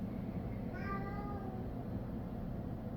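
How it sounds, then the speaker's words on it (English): A pet cat lets out one drawn-out meow, faint and somewhat distant, against a steady background rumble indoors. "My cat is meowing."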